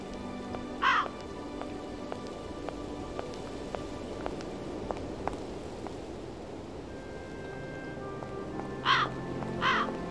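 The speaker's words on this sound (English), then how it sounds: "Hello there, bird." In the Syberia adventure game, a crow caws once early, then twice more near the end, each call distinct over a steady quiet outdoor ambience with faint ticking.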